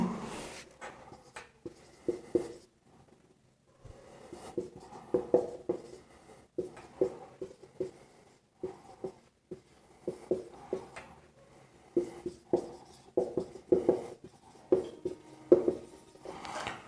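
Pen scratching out notes on paper, rapid irregular strokes in close bursts with a brief pause partway, no talk.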